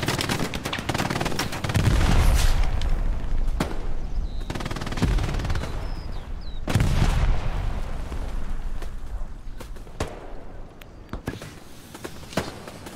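Dense gunfire and heavy grenade blasts from the World War II shooter Hell Let Loose, with loud booms rolling out and bursts of rifle and machine-gun fire through a fight, close and intense.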